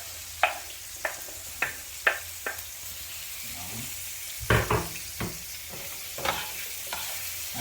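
Curry shrimp with onions sizzles in a pan as seasoning goes in, a spoon scraping and stirring in a steady run of sharp strokes over a soft constant frying hiss, close and with no talking.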